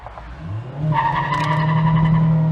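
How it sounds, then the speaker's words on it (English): A 2024 Mazda MX-5 Miata ND3 with traction control off squeals its tires loudly and burns rubber, the shrill screech building over the revving engine, close and with no talk. "Burning rubber. Burning rubber indeed."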